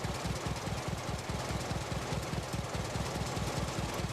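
Waterloo Boy vintage tractor, an early American commercial model, runs at a ploughing championship, its engine chugging in a fast, even, loud knocking beat that continues without pause.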